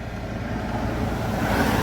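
A worn car engine, belching black smoke, pulls away with a steady low rumble that swells slightly in loudness, close by and alone without talk.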